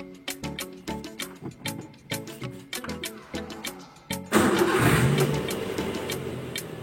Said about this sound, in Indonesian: Ini saya hidupkan mesinnya